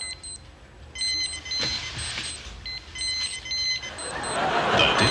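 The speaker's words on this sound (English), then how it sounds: "The Digital Alarm Watch." A digital alarm watch sounds in repeated bursts of shrill electronic beeps, close and clear, with short pauses between groups over a faint murmur and rising background noise.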